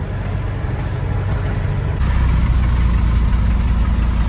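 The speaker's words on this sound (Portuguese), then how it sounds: "Estamos aqui acelerando já, vamos acelerar" A truck engine drones loudly and close by, rough and knocking, and steps up to a heavier, fuller roar about halfway through as the throttle opens.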